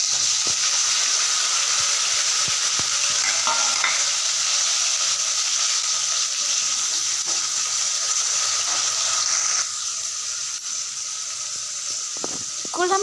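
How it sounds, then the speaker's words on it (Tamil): Chopped tomato sautéing with garlic, chillies and shallots in a pan for an egg curry, a loud continuous sizzle with faint stirring scrapes, the hiss easing slightly partway through. "ஒரு தக்காளி நறுக்கி வச்சுட்டு அதையும் சேர்த்து நல்லா வதக்கி விட்டுக்கலாம்"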